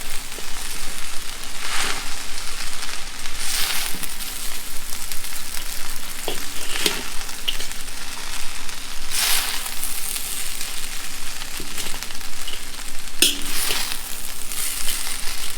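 Chow mein noodles with bean sprouts, green onions and other vegetables are stir-fried in a hot pan, a continuous loud sizzle broken by repeated bursts of tossing and scraping as the mix is stirred, with no voices.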